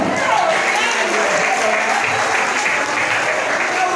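Church congregation applauding the Lord during a lively service, loud and continuous clapping from a large crowd sustained with no break, with voices mixed into the din.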